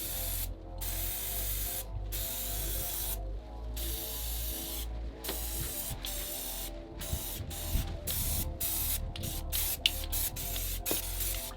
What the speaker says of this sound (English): We'll spray in a few colors.